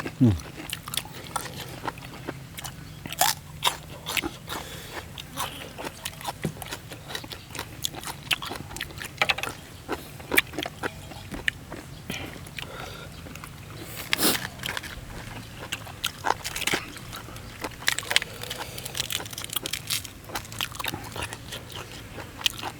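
Crunchy seafood such as squid is chewed with crisp vegetables and spicy papaya salad, giving repeated close biting and crunching bursts while people talk in Thai.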